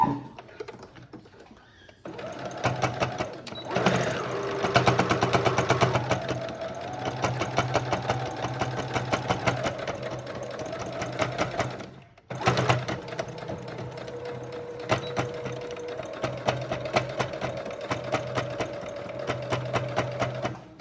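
A domestic sewing machine stitches a fabric surgical mask, running in a fast steady mechanical rattle with a brief stop midway before stitching on, close up.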